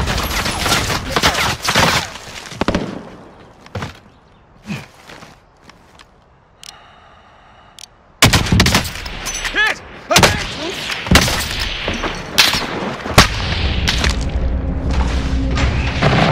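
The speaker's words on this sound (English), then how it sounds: "Who's shooting up there?" Gunfire in the video game Warzone comes as bursts of rapid shots and heavy booms, broken by a quiet stretch with faint footsteps, then resumes loudly. Players talk over the action.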